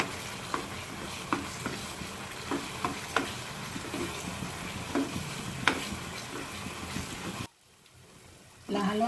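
Grape halwa being stirred in a pan after dry fruits go in, with steady scraping and soft sizzling marked by sharp spoon knocks, before a brief near-silent gap and the stirring resuming.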